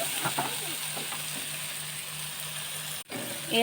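Tomatoes cook in a pan for pasta, giving a quiet, continuous sizzle and bubbling with a few stirring scrapes. A brief dropout occurs near the end before the sound returns slightly louder.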